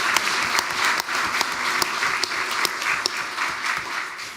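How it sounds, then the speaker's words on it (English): Audience applause for two county sheriff's officers providing security at a farm bill listening session in Florida, a steady round of clapping from a modest crowd with a few sharp individual claps standing out, lasting about four seconds. "Please give them a round of applause."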